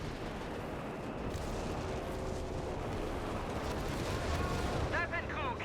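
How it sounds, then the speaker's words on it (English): Bomber fire strike in the video game Company of Heroes 3, dense rumbling explosions and artillery-like blasts rolling continuously and loudly, with sharper crackling bursts near the end. "That was a pretty damn good fire strike."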